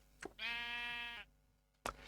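A sheep in the Minecraft modpack Enigmatica 6 lets out a single clear, drawn-out bleat of about a second, bracketed by short knocking clicks from gameplay, with no talk.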